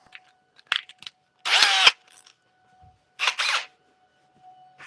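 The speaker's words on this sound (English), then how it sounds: "just got to grab my drill" Power drill in a woodturning workshop, triggered in two short whirring bursts of about half a second each, close and fairly loud, with small clicks and handling noises between them.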